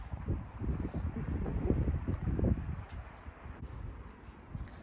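Strong wind gusting outdoors in a Norwegian town decorated with Christmas lights, a loud, rumbling low roar of buffeting against the microphone that swells and eases over several seconds.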